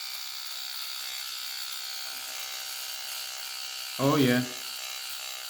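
A Kensen 7D rotary electric shaver, fitted with its nose hair trimmer attachment, runs with a steady, close, thin electric buzz throughout, and someone speaks briefly near the end.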